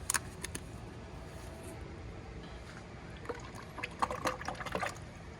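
Motor oil trickles and gurgles steadily into the engine filler neck of a Toyota Tundra, with a few brighter splashy bursts toward the end; no voices.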